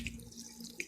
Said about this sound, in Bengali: এখানে জর্জর থাকার জন্য সামান্য ঠান্ডা পানি দিয়ে দিলাম,